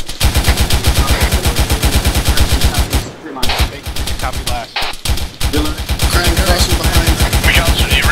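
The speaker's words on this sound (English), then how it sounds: "I have audible gunfire and I can see tracers" Rapid automatic gunfire in the military video game ARMA 3 rattles in loud, continuous bursts, broken by short pauses around the middle.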